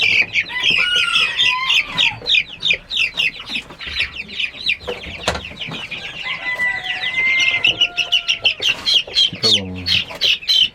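A crowd of young chickens of a new breed, many of them cockerels, fills the space with dense, continuous high peeping and chirping, plus a few lower clucks and squawks near the end.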